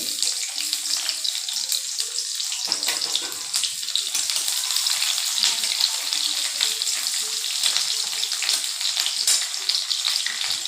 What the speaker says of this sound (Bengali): এবার দিয়ে দেব রসুন কুচি পেঁয়াজ কুচি